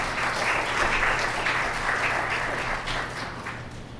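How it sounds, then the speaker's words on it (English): Audience applause at a veterans forum in Leominster, steady dense clapping from a seated indoor crowd lasting the full four seconds and fading slightly toward the end. "Can we give Mike a round of applause"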